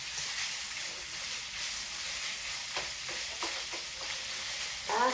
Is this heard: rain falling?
no